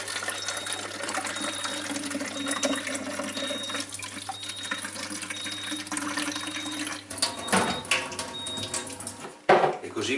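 Water streaming from a Kangen water ionizer into a container, a steady close pouring rush with a faint tonal whine, shifting and splashing near the end as the flow is handled.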